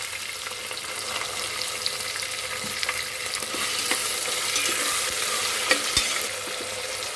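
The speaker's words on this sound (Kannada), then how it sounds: "ಸ್ವಲ್ಪ ಫ್ರೈ ಮಾಡ್ಕೊಳ್ಳೋಣ ನೀಟಾಗಿ. ಟೊಮೆಟೊ ಹಾಕ್ಕೊಳ್ತಾ ಇದ್ದೀನಿ." Tomatoes and peas fry and get stirred in a pan for vangi bath, a steady close sizzle with scattered scraping and clinking of the spoon against the pan, no voices.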